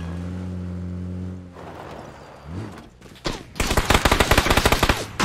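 Gunfire in PUBG: an engine drone fades out, a few scattered noises follow, then a loud, rapid burst of automatic shots fills the second half.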